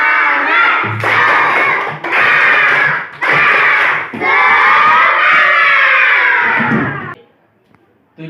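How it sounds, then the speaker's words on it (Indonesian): A classroom of pupils performs a clapping chant: loud group shouts in short bursts, then one long sustained cry, with faint thumps underneath before everything drops to near silence. "Ayo, biar lebih semangat lagi, kita tepuk semangat dulu. Tepuk semangat."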